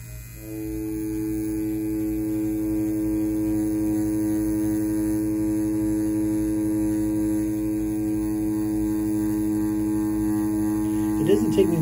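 An XNET Elite wireless tattoo machine runs at 7.5 volts while packing black ink, giving a steady, close buzzing hum that holds evenly throughout, with a short scuffle right at the end.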